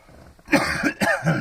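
A few harsh, raspy coughs close to the mic, in quick bursts after a short quiet start.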